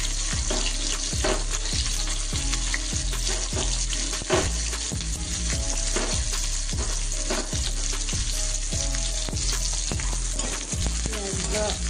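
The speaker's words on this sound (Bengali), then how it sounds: "চলুন পেঁয়াজগুলো আমি দিয়ে দেবো। তেলটা আমার গরমও হয়ে গেছে।" Onions frying in hot oil for monsoon moong dal khichuri, a loud continuous sizzle with repeated stirring scrapes of a utensil in the pan, no talking.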